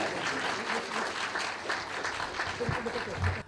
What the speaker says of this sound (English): A round of applause, please, for Mr. Robinson.